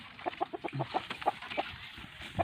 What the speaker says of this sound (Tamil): அவர் பின்னாடி கோழி இப்படி நடந்து போக மட்டும் பாருங்கள்